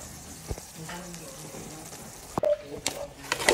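Food being stirred in a frying pan with a little added water and cheese before fried pork ribs go in; close sizzling with scraping strokes and a few sharp utensil knocks, under quiet background talk.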